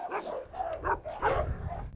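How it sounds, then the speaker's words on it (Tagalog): A dog, apparently a Cane Corso, gives several short barks and yips in quick bursts across two seconds, fairly close with no talk. "Sobrang bait ng aso nating si Carlos"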